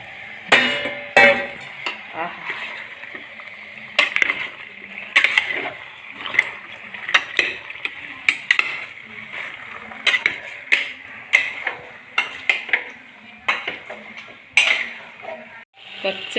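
Chicken pieces go into a pan for chicken chops, bringing a string of sharp metallic clatters, knocks and wet splashes at uneven intervals, close and fairly loud.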